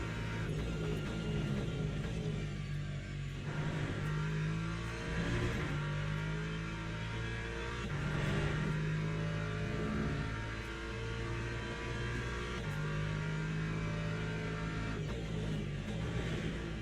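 A race car engine roars steadily in the Le Mans Ultimate racing game, revving and shifting through gears in a constant, loud drone with no talk over it.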